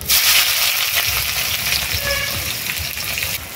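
Chopped onions fry in hot mustard oil with five-spice seeds in a heated wok, giving a loud, close, steady sizzle with stirring noises throughout and no talk.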